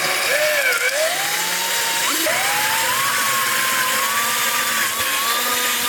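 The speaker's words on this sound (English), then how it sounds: "take a bigger drill bit and then make it a little bit bigger so that the bolt can go through" A power drill with a larger bit enlarges pilot holes so a bolt can pass through while a bumper diffuser is fitted to a Honda S2000, a loud, close, continuous whine whose pitch wavers and briefly dips midway.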